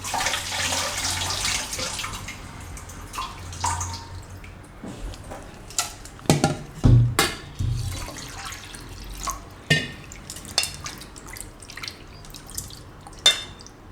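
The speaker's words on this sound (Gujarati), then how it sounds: "આ રીતે, પાણી નાખીને એકવાર ધોઈ નાખીશું." Flattened rice (poha) washed with water in a bowl, for methi poha fritters: swishing water and scattered drips and splashes, close by, with a few sharp knocks against the bowl and no talk.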